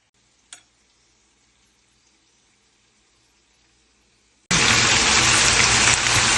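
Julienned carrots and raisins hit a hot pan and burst into a loud, steady sizzle that fills the last two seconds, after a long near-silent stretch broken only by one faint early click.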